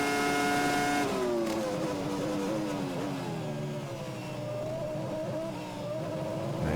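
A Formula 1 car sweeps through the fast 130R corner at Suzuka, its engine holding a loud, sustained high-pitched whine that drops slightly in pitch partway through, then carries on steadily without a lift.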